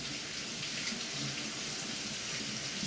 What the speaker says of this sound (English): So I'm coating my cold water to rinse this chicken off.